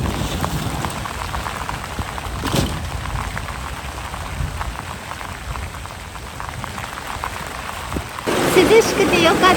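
Heavy rain pours in the mountains, a dense, loud steady hiss with a brief sharp thump partway through and a louder surge near the end.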